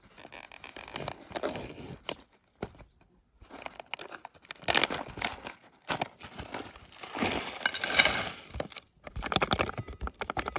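A package of freeze-dried food is opened with close, crisp crinkling and tearing of the wrapper in irregular bursts, with pauses between handling.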